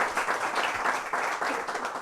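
Warm applause from an audience at a bookstore author event, a close, steady patter of many hands clapping that swells and eases slightly over a couple of seconds.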